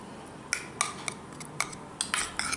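A spoon stirring ginger and honey paste in a small dish, with faint scattered clinks and taps of metal against the container, quiet and close.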